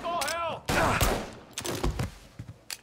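Revolver shots in the video game Mafia Definitive Edition ring out as a few loud, close cracks in quick succession, mixed with game effects and a voice talking between them.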